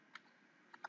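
A few quiet keystrokes on a computer keyboard while typing a name, three short isolated clicks against a faint room hiss.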